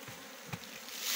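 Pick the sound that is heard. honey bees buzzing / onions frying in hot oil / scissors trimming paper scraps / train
honey bees buzzing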